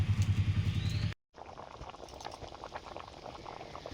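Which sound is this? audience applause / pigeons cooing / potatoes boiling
potatoes boiling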